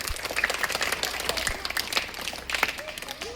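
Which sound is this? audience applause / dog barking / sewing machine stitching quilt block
audience applause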